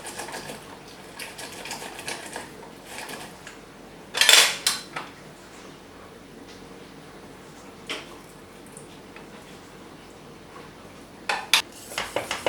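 Cake batter with lemon zest and lemon juice stirred in a bowl, giving a steady soft scraping with several sharper clinks of utensil against the dish, clearest near the middle and toward the end.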